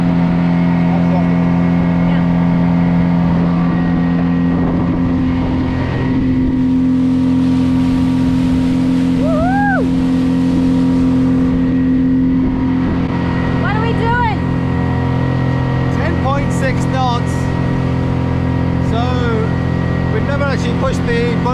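A Leopard 45 catamaran pushed fast under engine power, with a steady loud engine drone and rushing water throughout, a continuous near hum that never lets up.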